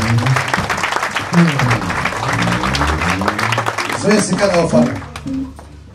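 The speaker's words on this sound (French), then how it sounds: "Acclamons pour le Seigneur" A church congregation claps and cheers in praise of the Lord, dense applause mixed with loud voices and shouting from the crowd throughout.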